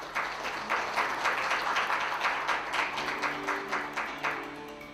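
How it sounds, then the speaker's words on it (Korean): Steady applause from a conference audience welcoming a Google speaker onto the stage, a dense rippling wash of many hands clapping at a fairly even level, alone with no talk. "여러분 큰 박수로 환영해 주시기 바랍니다"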